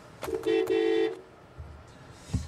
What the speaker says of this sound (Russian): Очень, очень сильный гудок здесь стоит.